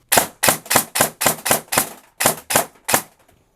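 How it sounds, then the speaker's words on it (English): An airsoft M4 fitted with a T238 brushless motor fires five separate semi-auto shots. Each is a sharp, close snap with a quick mechanical clack, coming in a steady rhythm and standing alone with no other sound. "we're gonna do 5 shots with the T238"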